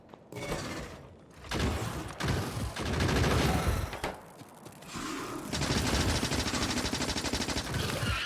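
Video game turrets loaded with ammo fire on biters in a factory-building game, sustained rapid machine-gun bursts that come in waves, loud and dense with brief gaps and no talk.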